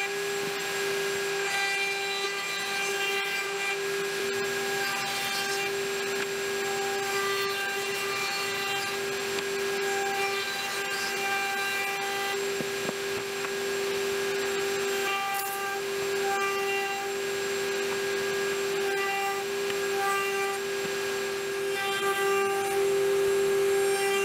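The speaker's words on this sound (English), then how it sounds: "I round over the corners with the router." Router rounding over the corners of a wooden shop vac hose handle, a steady high-pitched whine that holds loud and unbroken throughout.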